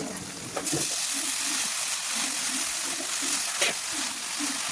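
Freshly washed patri leaf vegetable, seasoned with salt and turmeric, sizzles in a pan with a steady close frying hiss, broken by a few sharp clatters of stirring.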